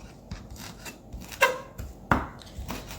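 Fresh coriander being finely chopped with a knife on a board for a chicken avocado salad, giving a few irregular close knife strikes, two of them sharper and louder, with no talk.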